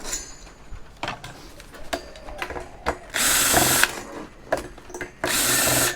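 A power drill backs out Torx screws while a garage is being scrapped, with two sustained whirring bursts, several sharp clicks and knocks of handling and loose parts around them, and a busy workshop feel.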